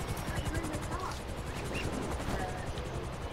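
A video-game helicopter's rotor pulses in a fast, even chop beneath gunfire-like bursts, with players talking over it throughout.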